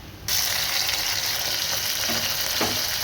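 Tomatoes sautéing in a pan for a moong dal sambar, a steady loud sizzle that starts abruptly and continues without pause, with a few faint scraping stirs near the end.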